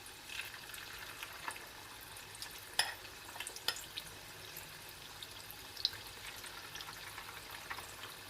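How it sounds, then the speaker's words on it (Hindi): Chicken cubes fry in a pan with a steady, close crackling sizzle punctuated by a few sharp pops and spatters, with no voices. "तो चलें इसकी चिकन को फ्राई करना शुरू करते हैं।"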